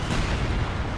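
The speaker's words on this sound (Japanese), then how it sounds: "相手の固まっているところに砲撃をばらまいていって" Artillery barrage in the video game Company of Heroes 2 during a 1v1 match, a low, rumbling wash of distant booms and explosions rolling continuously for a moment.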